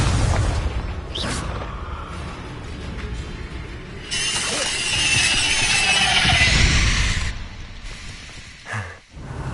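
Confringo fire spells exploding in the video game Hogwarts Legacy, a continuous rumbling game mix with swelling blasts and mechanical clanks, loud and close, a brief dip and thump near the end.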